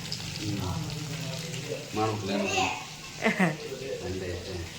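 Fish sizzles in a frying pan as a soft, steady hiss underneath nearby talking and children's voices.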